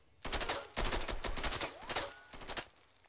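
Rapid bursts of automatic gunfire in the video game Insurgency, several loud crackling volleys in quick succession with brief pauses, no talk.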